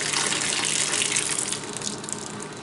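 Water gushes and splashes steadily as towels are squeezed through a wringer washer during homestead laundry, a close, continuous rush that eases slightly near the end.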